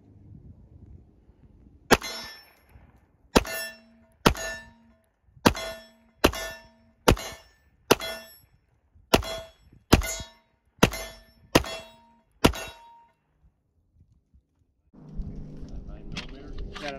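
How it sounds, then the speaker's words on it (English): A CZ pistol fired at steel targets: about a dozen sharp, evenly spaced shots, each followed by a ringing metallic clang, loud and close, with a low rumble of background noise before and after the string. "I'm going to shoot just that big one in the center."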